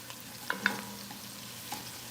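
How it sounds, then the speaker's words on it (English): Garlic paste fries in hot oil in a pot, giving a quiet, steady sizzle with a couple of light clicks from a utensil and a faint stir near the end, and no voices. "Now we're going to go in with our garlic paste, and we want to be careful because this can burn fast."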